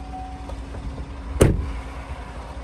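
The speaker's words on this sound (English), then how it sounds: "Let's pop the hood real quick." Hood of a 2018 Chevrolet Silverado 1500 LTZ 4WD pickup being opened: a single sharp metallic latch pop partway through, with a short decaying thump, set against a quiet outdoor background.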